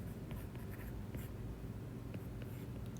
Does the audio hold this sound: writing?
yes